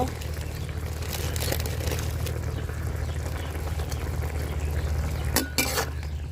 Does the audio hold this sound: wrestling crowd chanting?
no